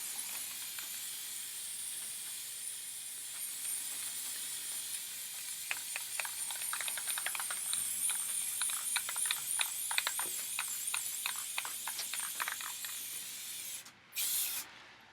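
An aerosol spray paint can hisses steadily while making spray art, then breaks into a long run of short, rhythmic bursts as it sweeps back and forth, close and loud, ending in a brief final blast.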